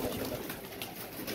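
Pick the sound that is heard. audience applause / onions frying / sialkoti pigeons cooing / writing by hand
sialkoti pigeons cooing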